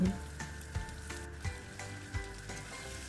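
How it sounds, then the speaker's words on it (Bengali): Potato pieces fry in hot oil seasoned with salt and turmeric, giving a steady, soft sizzle with a few light knocks from a spoon against the pan. "এবার ওই তেলেই আমি আলুগুলো ভেজে নেব"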